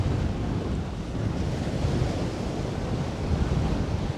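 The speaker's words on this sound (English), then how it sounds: "as we look at these monumental waves" Ocean surf rolls in at Coney Island in New York City on a February day, a continuous loud wash of breaking waves mixed with heavy wind rumble on the microphone, with no talking.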